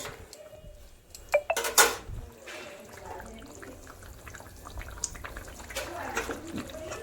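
A metal lid clatters and clinks onto a pot of cooking vegetable curry in a home kitchen, with a couple of sharp knocks amid soft background murmur and faint voices.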